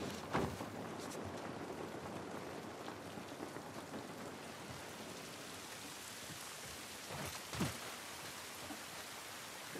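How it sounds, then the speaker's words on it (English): Steady rain pours in The Last of Us remake, a dense, even hiss that runs throughout, broken by two brief louder splashes or cracks, with no voices. "This rain ain't gonna do us any good."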